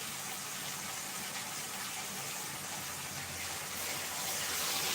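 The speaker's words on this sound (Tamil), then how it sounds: "ஜாரை கழுவி" Water runs in a steady, soft gush as a mixer grinder jar is rinsed after grinding onion and tomato, a continuous faint splashing with no talk.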